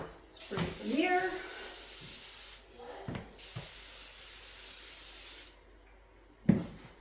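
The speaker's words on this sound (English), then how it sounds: "spray the mirror." Several short hissing bursts of a spray bottle spraying cleaner on a mirror, one longer spray then quicker pumps, close and fairly quiet, with a soft voice at the start.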